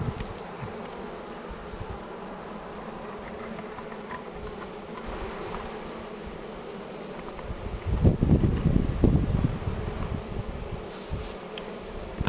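Honeybees buzz continuously around an open hive being worked with a smoker in spring, a dense near swarm hum that swells louder partway through, with no talking.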